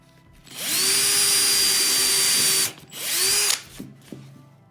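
A power drill bores a pilot hole in MDF with a thin 1/8-inch bit, a loud steady whine lasting about two seconds, a short pause, then a second briefer burst that winds down, with no talking.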